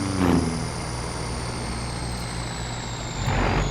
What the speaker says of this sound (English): let me move this truck. This thing is louder than the hills,